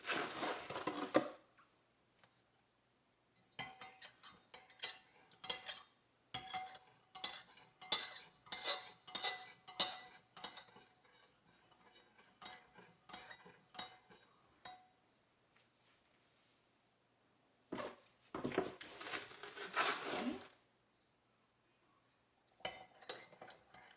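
A spoon stirs and breaks up chunks of borax in a bowl, giving faint, close scraping and clinking in irregular bursts with quiet pauses between them.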